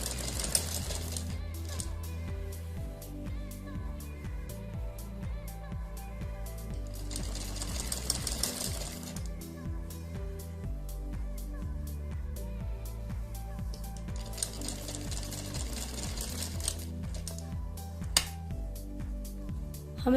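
Sewing machine stitching a puff sleeve onto a blouse, its fast mechanical whir running steadily throughout, with two bursts of brighter rattling along the way, someone speaking over it in a low voice.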